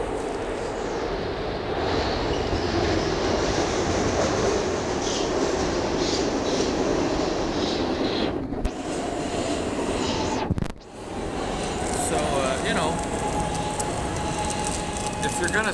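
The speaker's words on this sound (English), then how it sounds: "here comes a train." A SEPTA train rumbles loudly nearby as it arrives at a station, its steady roar and rattling wheels filling the scene, with a couple of brief sharp breaks as it rolls in.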